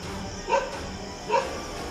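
Dogs barking at night along a road, two separate barks about a second apart, moderately distant over a quiet background hiss.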